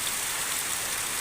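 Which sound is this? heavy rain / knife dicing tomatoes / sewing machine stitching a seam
heavy rain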